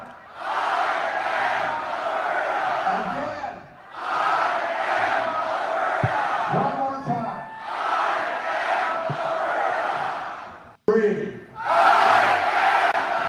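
Huge outdoor crowd of thousands at an Alberta independence rally, roaring and chanting loudly in long sustained swells separated by brief pauses, with a sharp cut near the end where the roar resumes.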